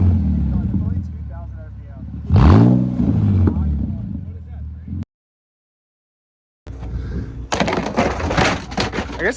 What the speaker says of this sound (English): Easy, you're cold revving it.